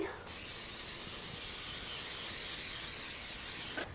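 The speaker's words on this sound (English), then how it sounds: "I'm going to spray it with some nonstick cooking spray" A continuous hissing spray from an aerosol can of nonstick cooking spray into a baking dish runs steadily for several seconds, close by, then cuts off.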